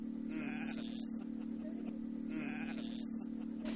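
Sheep out on a vast green Xinjiang landscape bleat twice, two drawn-out calls about two seconds apart over a steady low hum, with no talking.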